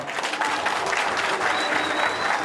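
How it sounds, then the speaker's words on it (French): Crowd applause for the head of state at a political support rally in Cameroon, a dense, steady clapping from a large audience sustained throughout without letup. "Je voudrais qu'à l'occasion qu'on applaudisse très fort pour le chef de l'État."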